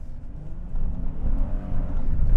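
A 2021 Honda Ridgeline Sport with HPD package rumbles and revs steadily up close, the low roar rising slightly as it accelerates over rutted ground with bumpy, uneven noise.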